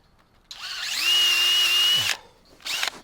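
A power drill whines steadily for about a second and a half, boring a tap hole into a maple tree, then stops, followed by a short second burst, close and loud.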